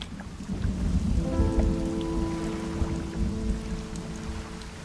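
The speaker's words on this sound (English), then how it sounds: "It's raining." Steady rain and low rumbling thunder from the fishing video game Dredge, with a brief tonal hum rising over the storm partway through; no voices.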